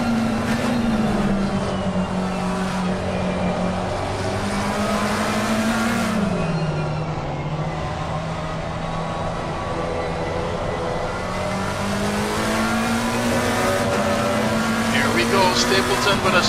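Two McLaren GT3 race cars run nose to tail at Silverstone, their engines a loud sustained drone that rises and falls in pitch through gear changes and corners. Commentators talk over it throughout.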